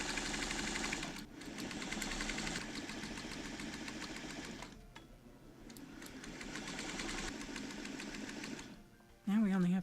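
A sewing machine stitches quilt blocks together in steady, rapid bursts of mechanical whirring, pausing briefly between runs, close and clear, with a short burst of other noise at the end.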